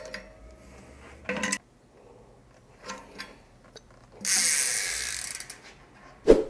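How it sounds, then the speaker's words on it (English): A lock ring tool being torqued down on a bicycle cassette lock ring gives a few separate metallic clicks and ratcheting bursts, close and fairly quiet, with a longer harsh scraping burst near the end and a sharp clank at the finish. "install our lock ring tool. We can go ahead and start torquing it down"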